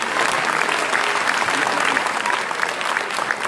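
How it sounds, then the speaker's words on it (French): Thick, continuous applause rises from a crowd at a New Year's greetings evening, an even wash of many hands clapping with no pause. "Vous pouvez applaudir, bien sûr."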